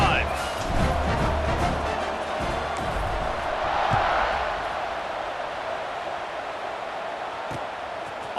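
Stadium crowd roaring at a kickoff in College Football 26, a broad, steady wash of cheering with a swell in the middle, while commentary talk runs over it.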